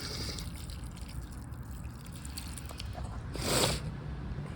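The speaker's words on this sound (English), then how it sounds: "Let's give this little sucker a little bit of water." Water trickles from a container onto a freshly sprouted houseplant, a soft steady pour close by that swells into a brief louder gush near the end.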